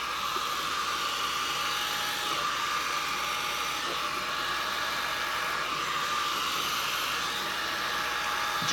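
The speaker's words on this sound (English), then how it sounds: "eventually the heat from the hairdryer starts to dry it up" A hair dryer blows continuously and evenly near the mic, drying alcohol ink on an art piece, with no other sound over it.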